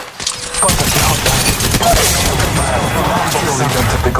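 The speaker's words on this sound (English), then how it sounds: "They're shooting at me." Sustained firefight noise in Apex Legends Mobile: a loud, continuous wash of gunfire and mechanical clatter, close and dense, with a voice faintly in the mix.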